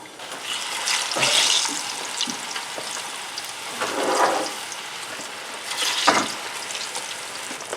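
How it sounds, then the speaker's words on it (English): Steady sizzling of plantains frying in hot oil, with a few louder bursts of crackle and hiss rising over the constant bubbling. "They're frying up nice and golden."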